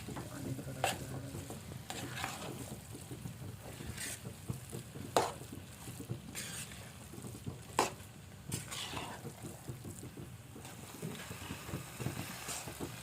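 Maggi noodles tossed with Maggi masala in a hot pan, a steady sizzle under repeated scraping stir strokes and occasional sharper clinks of the utensil against the pan, close up with no talking.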